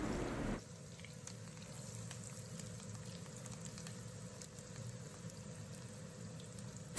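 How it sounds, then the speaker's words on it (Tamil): Finely chopped large onions fry in hot oil in a pan for a Malaysian egg sambal, a soft steady sizzle that carries on evenly after a brief louder start, with no one talking. "இப்போ நம்ம 2 பெரிய வெங்காயத்தை இந்த மாதிரி சின்ன சின்னதாக நறுக்கி சேர்த்துக்க போகிறோம்."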